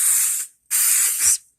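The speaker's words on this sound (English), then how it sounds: "when I spray, I don't want the spray to get everywhere" Two short bursts from a spray can aimed into a box, each a steady broad hiss of about half a second with a brief gap between, close and clear with no talk.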